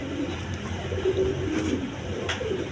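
Soft, low cooing of pigeons in a loft, with coloured pairs kept as pets, murmuring continuously at moderate distance behind a faint background hum, with no speech.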